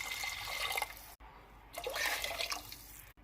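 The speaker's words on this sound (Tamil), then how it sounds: "இப்போ புளி தண்ணி சேர்த்துக்கலாம்." Tamarind water pours into a pressure cooker for green gram curry, a near, splashing liquid stream in two pours separated by a short break.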